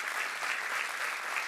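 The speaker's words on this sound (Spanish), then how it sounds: "Denle un fuerte aplauso a aquel que es bueno todo el tiempo" A church congregation applauds, a dense steady wash of many hands clapping together at moderate distance with no voices.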